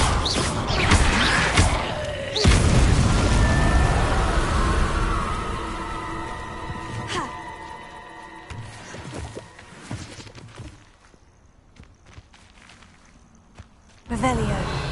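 A Confringo fire spell bursts in Hogwarts Legacy with a loud, booming impact followed by crackling debris and a fading tail, with a few more sharp hits afterward.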